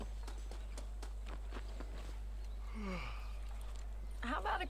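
Horse hooves clop at a walk on the ground in Red Dead Redemption, a series of evenly spaced, fairly faint steps over a steady low hum, followed by a short voiced sound and a brief rustle.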